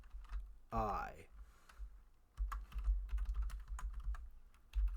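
Computer keyboard typing of C++ code, quiet close clicks in irregular bursts, with a brief voice sound near the start.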